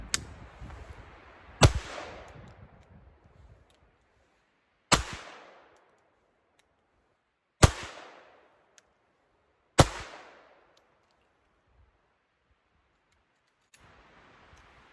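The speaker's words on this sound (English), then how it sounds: "5 paces, more rapid shooting, CZ27, single-handed." A CZ27 pistol fired single-handed at five paces: five sharp, loud reports spaced roughly two to three seconds apart, each ringing briefly with an echo before silence.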